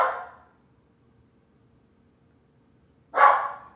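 A dog barks twice, a short sharp bark at the start and another about three seconds later, fairly close with silence between.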